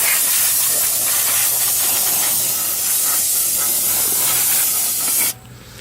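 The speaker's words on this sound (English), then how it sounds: "take the brake cleaner that it comes with and spray down your calipers" Brake cleaner sprays from an aerosol can onto the brake calipers of a G37. It makes a loud, continuous hiss for about five seconds, then cuts off abruptly.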